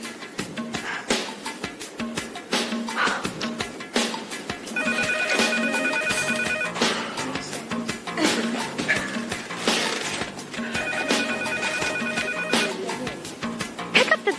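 A telephone rings repeatedly and goes unanswered indoors, with steady repeated ring bursts over a background of music, fairly loud.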